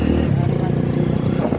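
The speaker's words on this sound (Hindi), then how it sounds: "ट्रैफिक ज्यादा है रोड पर" Heavy road traffic on a village road, with a loud, close, steady engine drone like a passing motorcycle filling the whole moment.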